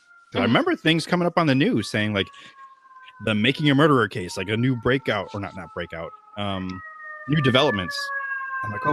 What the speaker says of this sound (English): Yes, that's a fire truck.